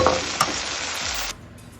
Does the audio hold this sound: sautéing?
yes